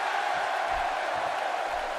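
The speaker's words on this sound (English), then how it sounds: "And listen to this crowd." A steady crowd roar at a wrestling show fills the whole stretch, a continuous wash of cheering and voices that stays even and loud with no clear breaks.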